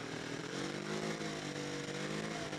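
A Honda Bros NT400 motorcycle engine in poor condition, with a slipping clutch, drones steadily on a road test, its loud, buzzy, even note running continuously without a break.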